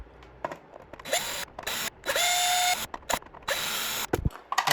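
Bursts of a small electric screwdriver whir on and off as screws come out of the base of a 1/18 McLaren model car, close and choppy, with rising whines, clicks and handling noises between bursts.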